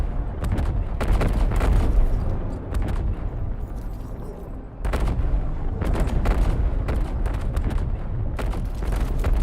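Heavy gunfire from the strategy game Mechanicus 2 as a Skitarii Vanguard Alpha is shot, loud repeated booming bursts in two clusters separated by a brief lull, close and dense.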